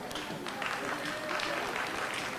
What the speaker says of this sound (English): give the AV folks a round of applause